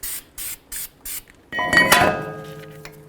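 Copper anti-seize sprayed from an aerosol can onto the brake hub of a 2006-18 Jeep Wrangler, four short even bursts of loud, close hiss followed by a clatter of metal parts ringing and settling.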